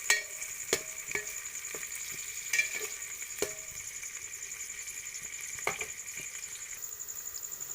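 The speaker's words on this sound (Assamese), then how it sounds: "এয়া সব ধুনীয়াকৈ পিয়াজখিনি ভাজ খাই আছে" Chopped onions fry in oil with a bay leaf in a pan for pulao, giving a steady close hiss broken by sharp spatula scrapes and taps at irregular moments.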